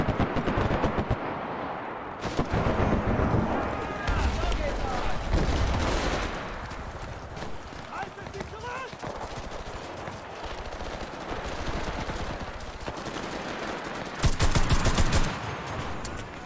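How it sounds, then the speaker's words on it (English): Rapid machine-pistol fire in the World War II shooter Enlisted, long automatic bursts rattling close and loud with other battlefield gunfire, a voice talking briefly over the shooting. "Machine pistol time."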